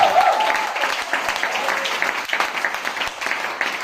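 Church congregation at a Sunday worship service breaks into steady, dense applause that fills the room, with a brief tonal vocal cry near the start and claps continuing evenly throughout.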